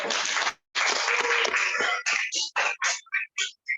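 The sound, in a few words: class applauding for Arsya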